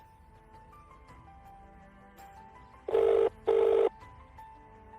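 Two bursts of an electronic telephone ring, each under a second with a short gap, loud over a quiet room hum.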